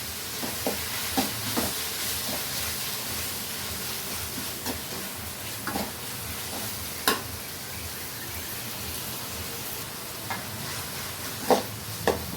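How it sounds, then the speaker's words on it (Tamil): Onions and curry leaves sauté in a pan for a sardine curry: a soft, steady sizzle with scattered scraping clicks from a spoon stirring, close and moderately quiet, with no talking. "நல்லா வதங்கிடுச்சு. இன்னும் கொஞ்சம் நேரம் வதங்கணும்."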